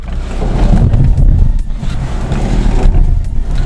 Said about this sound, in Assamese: আজি মই চলাই আছো ইয়াৰ যেটো 1 লিটাৰ HRAO টাৰ্বো ইঞ্জিন আছে ম্যানুৱেল ট্ৰান্সমিশনত